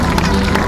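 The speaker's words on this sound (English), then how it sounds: "Give them a round of applause as well." Audience applause and crowd noise at a naval base open house show, a dense, steady wash of clapping that stays loud and continuous for the whole short stretch.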